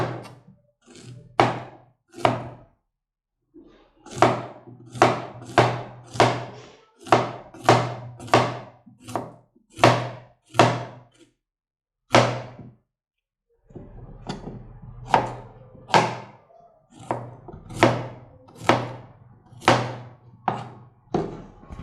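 Unripe plantain is chopped with a knife on a board in about two dozen sharp, evenly spaced thunks, close and clear, with two short pauses between runs.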